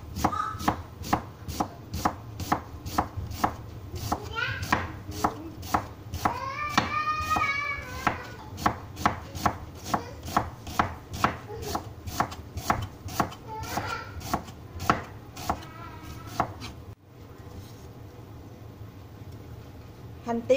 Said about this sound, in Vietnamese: Bây giờ thì mình sẽ cắt hành tây.